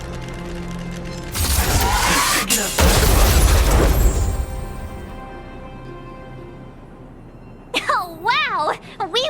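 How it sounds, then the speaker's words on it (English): A stealth bomb set off against automatons in Honkai: Star Rail goes off in a loud, sustained booming blast with crackling debris that fades over several seconds, followed by brief electronic warbling effects. "We wiped them all out in a single explosion!"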